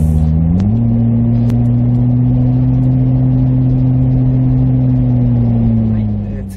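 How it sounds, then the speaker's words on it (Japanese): A Daihatsu Copen Xplay with an aftermarket exhaust drones steadily above 3000 rpm, a loud, deep exhaust tone that rises slightly early on and holds nearly constant before easing off at the end. "3000回転以上になると音がかなり大きくなるので純正のマフラーとは本当レベルが違うと思います"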